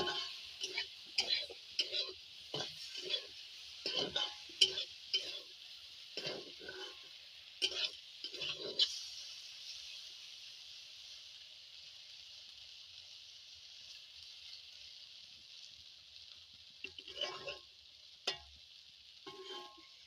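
Beans and spices fry in a pan. Quick scraping and clacking spatula strokes come in bursts over a soft sizzle, then a long stretch of quieter frying before a few more stirs near the end.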